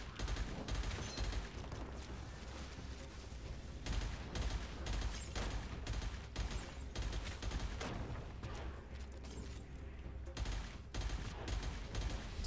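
Guns in the shooter Gunfire Reborn fire in dense, sustained volleys, rapid shots piling up in bursts with only brief lulls throughout.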